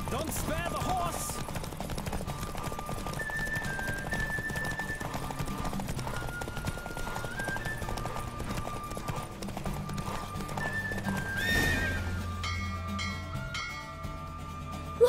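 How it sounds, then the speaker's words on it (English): A horse galloping in The Witcher 3, its hooves clopping in a quick steady rhythm along with a neigh, set under game music and some faint voices, until the pace breaks off near the end. "Don't spare the horse."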